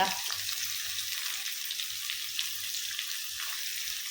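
Fish frying in coconut oil gives off a steady, close sizzle with a constant bright hiss and no pauses throughout.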